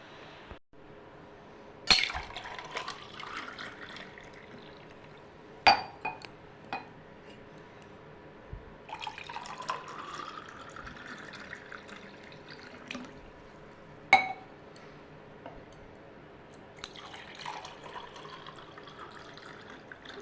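Cold water sharbat stirred in a glass, faint clinks of a spoon against the glass with soft watery swishing, scattered sharp taps at a few points over quiet background.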